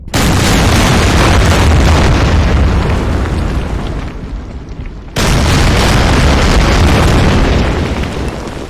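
Battleship gunfire in Order of Battle: loud, dense booming explosions roll continuously, ease off briefly around four seconds, then a fresh heavy blast restarts the barrage.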